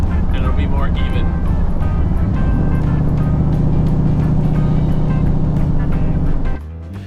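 A car powered by a big-block Chevy 540 engine with a Holley 4150 carburetor drives under load. It gives a loud, steady, deep engine roar that holds for several seconds and then drops off abruptly near the end.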